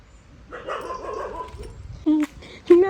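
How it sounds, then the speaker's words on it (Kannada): A dog near a graveyard at night gives two short, loud barks close by, after people talk and murmur. "ನಾಯಿ ಬಗ್ಲತ್ತು ಗೈಸ್"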